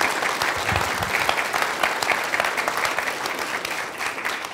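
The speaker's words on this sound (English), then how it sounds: "Will you join me in giving one final round of applause?" A university audience at a campus event gives a final round of applause, a full, even wash of many hands clapping that holds steady for several seconds.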